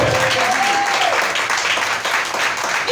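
Congregation in a French-speaking church service applauding and cheering for Jesus, steady dense clapping throughout with a voice audible in the mix.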